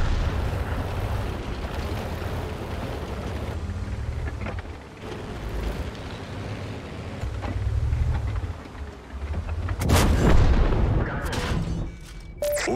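Tank cannon fire in a tank video game with a T-28E carrying an F-30 gun, heavy booming blasts over a low rumbling engine, the loudest shot near the end.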